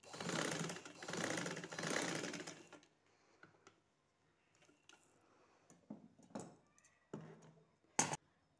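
A sewing machine stitches the round neck of a kameez in a steady, dense whirring burst for the first few seconds. It then stops, leaving quiet handling clicks and a brief sharp rattle near the end.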